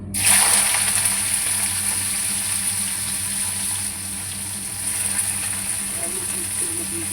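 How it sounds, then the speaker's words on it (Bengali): A sudden hiss as bitter gourd hits a hot wok, then a steady sizzle with a faint high whine and low hum throughout. "কড়া গরম হয়ে গেছে আমি কড়ার মধ্যে উচ্ছেগুলো দিয়ে দিই"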